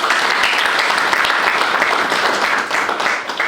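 A meeting audience at an evaluation session in Goma breaks into steady, dense applause, many hands clapping together at a constant loud level that thins slightly toward the end.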